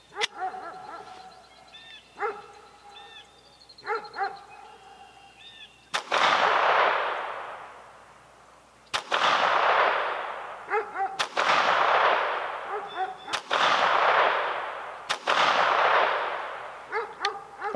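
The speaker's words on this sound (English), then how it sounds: "I fired 5 shots at the lower right-hand target." A Taurus TX22 .22 semi-auto pistol fires five shots at targets 10 yards away. Each report is sharp and loud, followed by a ringing outdoor echo, with the shots spaced a couple of seconds apart after a quieter lead-in.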